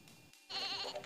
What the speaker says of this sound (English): Number one is merino sheep.